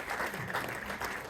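Applause from an audience at a Merriam, Kansas city council event, honoring elected officials; a steady, dense wash of clapping fills the short moment without a break.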